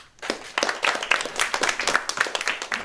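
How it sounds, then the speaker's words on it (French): A children's choir claps for itself after singing, starting abruptly into quick, uneven rounds of hand claps from a small group, fairly close and moderately loud. "Et vous pouvez même vous applaudir."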